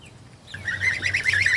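Mixed flock of New Hampshire Red and Araucana cross chickens on a hobby farm, a run of close, repeated chirping calls starting after a quiet moment and continuing steadily to the end.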